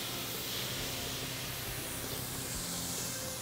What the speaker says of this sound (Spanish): vamos a colocarle un toque de vino blanco para soltar ese ahumado y doradito